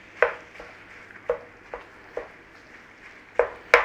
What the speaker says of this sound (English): In the pan. Start breaking it up. Start cooking the sausage meat.